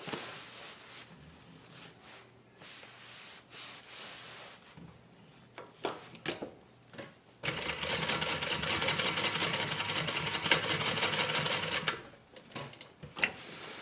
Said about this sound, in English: we're also going to take the time to stitch over our zippers here, just to make sure our zipper ends don't come off